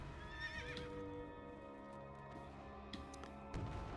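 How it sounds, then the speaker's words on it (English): A horse in the World of Warcraft video game whinnies loudly near the start, followed by hoofbeats clip-clopping and a few thuds as it sets off, with no talking over it. "And then let's hop on my horse."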